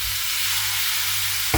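Potatoes dropped into a pan of frying bitter gourd for karela bhaji, a steady loud sizzle of hot oil that ends in a brief burst as the potatoes go in.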